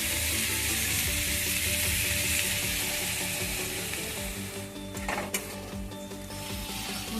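Mustard paste fries in a pan for a drumstick flower chorchori, with a loud, continuous sizzle and occasional stirring scrapes, one sharper clack near the end, close by and no voices.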